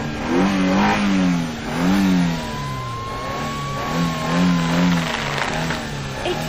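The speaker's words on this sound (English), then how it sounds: "Okay, start the car" A car engine revs up and settles in repeated swells, loud and close, with a faint whine rising and falling in the middle and no voices over it.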